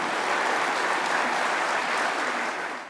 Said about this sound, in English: please join me in a hearty round of applause for our members of the Hall of Fame